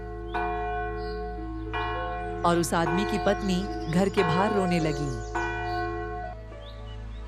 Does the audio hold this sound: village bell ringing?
yes